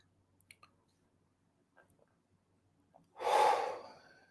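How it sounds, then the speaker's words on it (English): One deep inhaled breath, drawn in audibly and close after a few faint small noises, rising and fading within about a second. "Breath in again."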